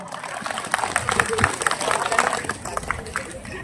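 Audience clapping at an outdoor Bible rally in a town plaza, a short burst of scattered applause with crowd murmur under it.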